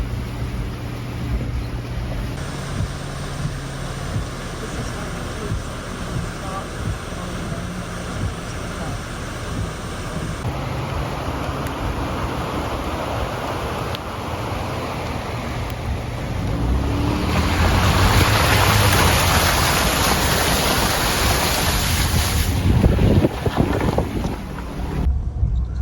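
A flash-flooded creek rages through a culvert with a continuous, loud roar of rushing water and wind buffeting the microphone, swelling stronger in the latter half.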